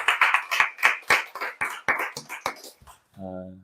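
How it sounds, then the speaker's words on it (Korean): A church congregation at a Sunday worship service claps in a steady rhythm, about a dozen sharp, evenly spaced beats, before a sustained keyboard chord sounds at the end. "우리 하나님께 영광과 찬송의 박수를 올려드립시다"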